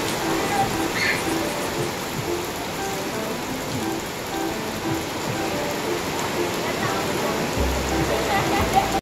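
Heavy rain pours steadily on Boracay island, a dense hiss of drops hitting surfaces, loud and constant with faint voices in the background.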